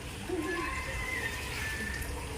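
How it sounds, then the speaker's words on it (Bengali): Water runs steadily while a garden is watered outdoors, a continuous wash of splashing flow that holds close and even throughout the short stretch. "বাগান করেছি না, জলটা দিতেই হবে"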